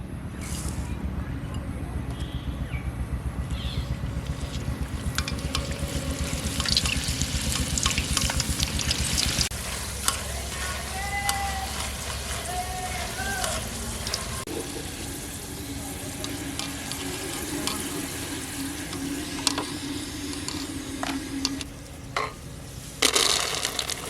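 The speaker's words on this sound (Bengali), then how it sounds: "মটর ডালটা ভেজে নেব" Split peas frying in hot oil for homemade chanachur give off a continuous bubbling sizzle with stirring and scraping, and some watery, running-tap-like sounds drift in partway through.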